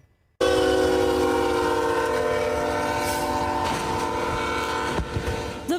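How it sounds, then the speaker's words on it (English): A freight train roars past a railroad crossing and tears through the back end of a tractor trailer stuck on the tracks, loud and close, with steady rumbling and screeching wheels and a few sharp crunching impacts near the end. "A train barreling down on, then tearing through the back end of a tractor trailer."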